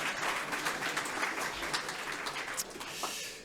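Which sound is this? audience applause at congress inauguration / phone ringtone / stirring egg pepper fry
audience applause at congress inauguration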